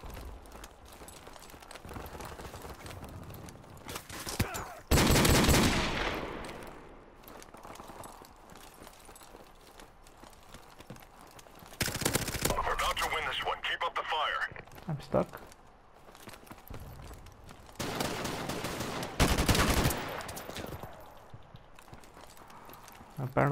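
Gunfire in a shooter video game crackles in several loud bursts spread through the stretch, mixed with rapid clattering, while a player talks over much of it.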